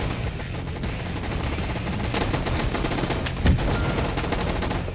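Double-barrel shotgun in the Roblox game Gun Fight Arena, several sharp gunshot blasts over a busy, noisy game background, with one heavier boom near the end.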